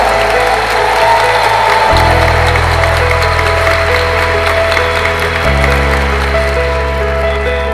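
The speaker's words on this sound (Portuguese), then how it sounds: "Forte salva de palmas." Wedding guests applaud the newlyweds right after they are pronounced married, steady loud clapping over a sustained organ-like musical backing that shifts chords.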